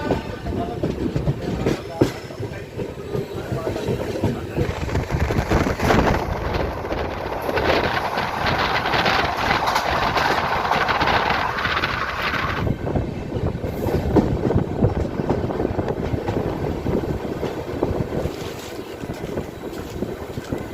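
The Gorakhdham Express pulls out of Basti station on its run from Delhi toward Gorakhpur, a loud continuous rumble and clatter of wheels with wind noise and a rising whine partway through.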